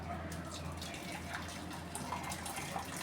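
Excess water drains and trickles steadily through a kitchen sieve while making spicy momos chutney, a continuous soft splashing flow close by with no pauses.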